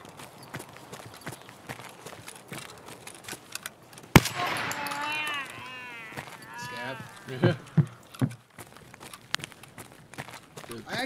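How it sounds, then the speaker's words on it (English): In the video game Escape From Tarkov, a suppressed shotgun fires once as a sharp, heavy thud, followed by rustling, clattering movement and player voices talking. "I actually love the way this shotgun sounds with the silencer on it."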